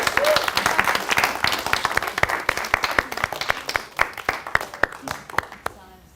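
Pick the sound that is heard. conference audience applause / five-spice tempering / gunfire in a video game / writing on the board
conference audience applause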